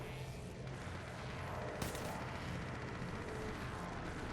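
Continuous gunfire in the mobile battle royale game Apex Legends Mobile: a dense, steady wash of shots and impacts, loud and close, with one sharper crack near the middle.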